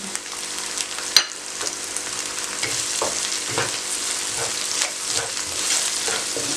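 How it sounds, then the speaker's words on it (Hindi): Green chilies frying in a pan for dal moong khichdi: a steady close sizzle with a sharp clink early on and soft scraping stirs repeating throughout, no voices. "अब हरी मिर्चें इसमें चंद सेकंड के लिए इनको भी मैंने पका लिया।"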